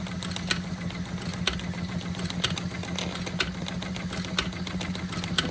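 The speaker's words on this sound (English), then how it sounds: "All the Wilescos have a lovely engine. Always nice and smooth, quiet." A Wilesco D24 toy steam engine running smoothly with a steady mechanical hum and low drone, punctuated by regular light ticks and clicks, close and continuous without talk.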